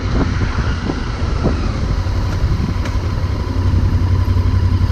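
The engine of a Yamaha Super Tenere motorcycle runs with a low, steady, clattering idle, close by and fairly loud, with no talking.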